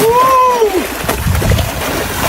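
Water splashes and sloshes as clothes are rinsed by hand in a river, close and fairly loud, with a voice briefly heard over the start.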